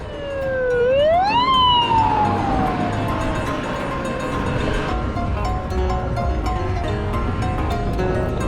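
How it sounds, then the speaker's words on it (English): Ambulance sirens at a crowded bike ride event, a loud near wail sweeping up then sliding down into a long sustained tone over road rumble, no talking. "There's just more and more ambulances."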